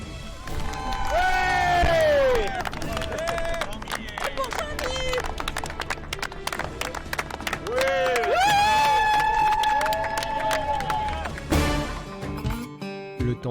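Rally competitors and organisers cheer and shout as a team finishes a stage of a women's and men's adventure raid, loud excited whoops and cries over scattered clapping, coming in two big swells with voices throughout.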